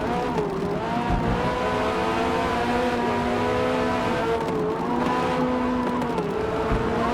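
Race car engines roar without pause in Forza Motorsport, a Corvette running close ahead, with steady loud whining revs rising and falling through gear changes and no talking.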